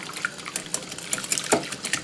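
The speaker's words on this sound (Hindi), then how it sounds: "और इसमें डालते हैं थोड़ा सा दूध पहले" Milk poured into onion ring batter being mixed with salt and a little oil, a soft liquid trickle and splash in close, quiet bursts over about two seconds.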